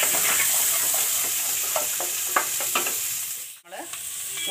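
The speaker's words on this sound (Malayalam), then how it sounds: "എന്താ നമുക്ക് ഇനി കടുകൊക്കെ പൊട്ടി സവാള ഇട്ട് കൊടുക്കാം." Chopped onion goes into hot coconut oil with popping mustard seeds and dried red chillies: a steady close sizzle dotted with sharp spluttering pops, then a brief stirring scrape near the end.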